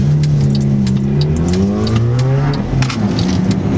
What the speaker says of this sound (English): Boy racer, Fiesta with big bore exhaust.